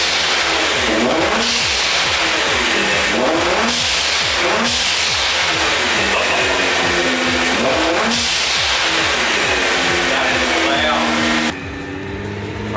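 A Nissan R35 GT-R engine with a new blow-off valve revs and accelerates loudly through repeated gear pulls, with sharp whooshing releases between shifts, close and continuous, under occasional voices.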